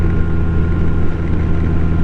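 A loud, steady motorboat engine drones nearby on a lake, a continuous low hum mixed with wind rushing across the microphone.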